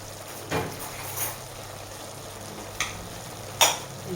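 Peas and cardoons fry quietly in a pan, a soft steady sizzle broken by a few brief clinks or stirring taps.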